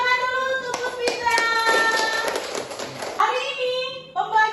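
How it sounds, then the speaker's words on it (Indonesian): A classroom of students in an Indonesian Islamic studies lesson breaks into a burst of hand clapping for a classmate. The applause lasts a few seconds, with a teacher's and children's voices before and after it. "kasih tepuk tangan dulu untuk Puspita"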